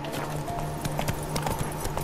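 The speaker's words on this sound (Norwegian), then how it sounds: "Nå regner man å bli god venn med Roach, hesten til Geralt" Horse hooves clip-clop steadily in The Witcher 3 video game, a brisk regular trot that sounds close and fairly loud, with game ambience underneath and no talking.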